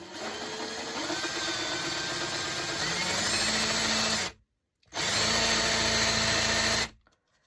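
A power drill bores through birdhouse wood in two long whirring runs, loud and close, with a steady grinding buzz that cuts off briefly between them and then stops.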